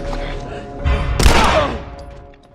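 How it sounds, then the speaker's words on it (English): Gunfire in The Last of Us video game: a loud, close burst of shots booming and echoing out over a couple of seconds, with game background noise beneath. "Let's just shoot him."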